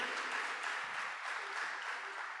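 A church congregation claps steadily and continuously in a large room, a dense, even wash of applause lasting throughout.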